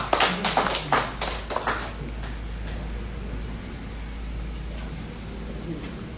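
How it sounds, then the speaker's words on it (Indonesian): Scattered applause from a small audience at an evening theater discussion, a couple of seconds of uneven claps that fade out into steady room hum. "Kita berikan aplaus yang meriah."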